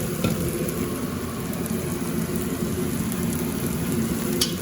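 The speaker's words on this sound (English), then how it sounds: "Now you want to stir this around. You don't want it to burn, but you want to hear a few popping sounds" Arborio rice toasting in a hot pan with translucent garlic and onion, stirred around, giving a steady dense sizzle with faint crackles throughout at close range.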